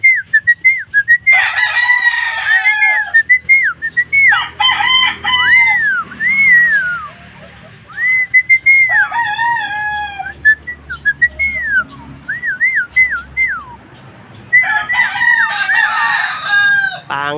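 Roosters crow repeatedly with drawn-out calls alongside whistle-like chirps and occasional clucks, loud and close, with brief pauses between bursts.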